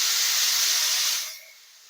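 A pressure cooker vents a loud, close steam hiss that holds steady and then fades quickly to a softer hiss.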